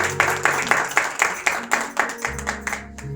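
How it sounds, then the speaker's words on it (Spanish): A church congregation claps for the Lord during a Spanish-language Sunday sermon, a series of sharp, rhythmic unison claps in a steady beat, loud and near, with a low organ or keyboard tone entering toward the end. "Dale un fuerte aplauso al Señor, al Rey de Reyes."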